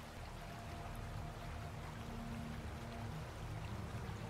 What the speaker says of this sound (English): Oh, the water's rising.